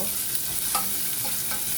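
Garlic and onion sizzle and fry in a hot pot while being stirred, giving a steady, close crackling hiss with small scraping knocks throughout.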